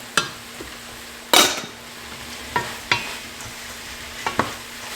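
Spices and coriander powder stirred in a hot frying pan over a low sizzle, with several sharp scrapes and clinks of the spoon against the pan at irregular intervals, close up.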